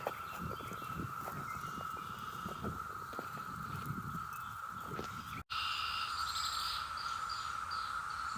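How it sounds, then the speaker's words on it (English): Brood X 17-year cicadas in 2021, a steady loud buzzing drone that fills the air outdoors, with faint scattered background sounds under it and no talking. "The humming of the cicadas."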